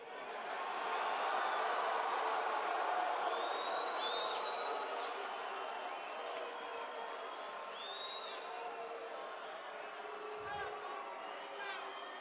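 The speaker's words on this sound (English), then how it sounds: "It sounds like you have a couple of protesters back there." Crowd noise at a political rally in Kansas City, with protesters among the audience: a broad, sustained roar of many voices with shouts and whistles, loud and fairly distant, holding steady throughout.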